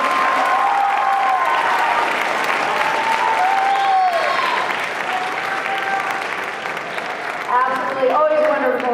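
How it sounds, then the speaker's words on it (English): Audience applause after a high school band concert, loud continuous clapping filling a hall with cheers and excited voices calling out above it, dipping briefly before swelling again near the end. "One more round of applause, please,"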